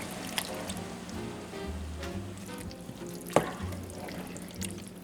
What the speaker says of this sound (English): Now we'll put in the tomato paste, the beef broth, and the diced tomatoes.